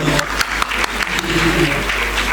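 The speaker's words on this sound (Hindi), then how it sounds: "तो मैम के लिए एक बार स्पेशल तालियां हो जाए।" An audience at an award ceremony claps steadily and densely, with talk mixed in.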